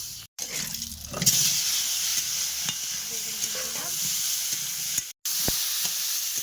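Steady sizzling hiss of hot oil frying in a kadai, ready for frying eggplant, with occasional clinks of a utensil; no talking.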